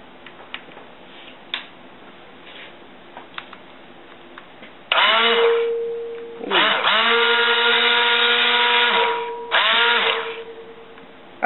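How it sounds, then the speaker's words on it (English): A stick blender whirs loudly in two long bursts after a few faint clicks and taps, its motor pitch shifting as it runs. "Okay, I've got a new stick blender."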